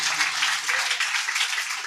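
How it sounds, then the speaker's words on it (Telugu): A church congregation at a special prayer meeting in Mypadu, Nellore, breaks into loud, sustained applause, a dense, even roar of many hands clapping together without a break. "చప్పట్లు కూడా స్తోత్రం చెప్పండి గట్టిగా"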